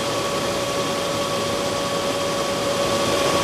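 Milling machine running with a radius cutter, a steady mechanical whir with sustained tonal hums over broadband noise, continuous and even in loudness with no talking.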